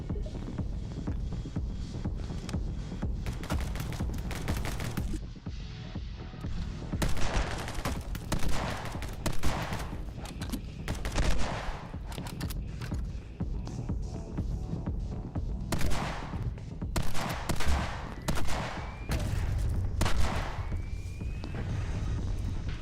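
Video game gunfire in My Friend Pedro: rapid bursts of shots and fusillades over a throbbing hum, with dense clusters of loud cracks that come and go in waves across the stretch.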